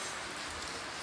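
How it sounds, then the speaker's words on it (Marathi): Steady rain falling on surfaces, a dense continuous hiss of drops with no voices. "पाऊस चालूच आहे अजून."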